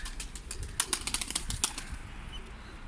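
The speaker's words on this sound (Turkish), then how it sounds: "Yavruya da kanat antrenmanı. Kuşlarımızı indirdik." Domestic pigeons flapping their wings as they land, a quick burst of close wingbeats and fluttering that fades within a second or two.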